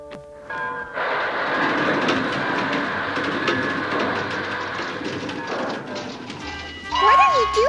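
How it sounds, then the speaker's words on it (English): A train rolls along with steady rumbling and rhythmic clattering of wheels on track, ending in a brief whistle-like tone. "My train is part of the dream."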